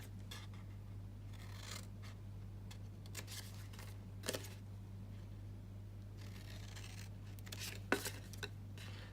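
Scissors cut along the score line of a cardstock box top in short, quiet snips and rustles, spaced irregularly over a low steady hum.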